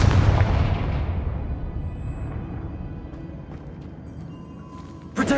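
Heavy booming spell blasts in the video game Hogwarts Legacy, a loud explosion at the start that rumbles and decays over several seconds, followed by a sharp new burst near the end.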